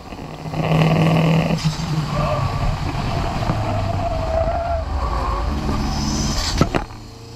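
A car engine in a racing video game drones and shifts pitch while overtaking another car, loud and continuous with changing tones and a sharp knock near the end.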